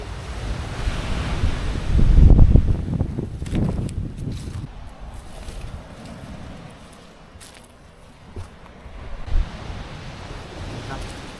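Surf rolls onto a black-sand beach at a secluded bay in Thap Sakae, with steady wind buffeting the microphone; a loud wave surge early on fades into softer washing and gusts, with no talking.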